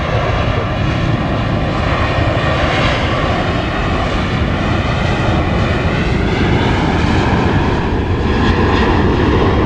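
A plane at Dallas Love Field airport at night gives a loud, steady engine roar that holds close and unbroken throughout, with no voices over it.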